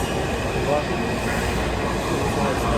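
A Washington, D.C. subway train rumbles steadily with a loud, continuous roar of wheels on rails, and voices murmur faintly beneath the noise.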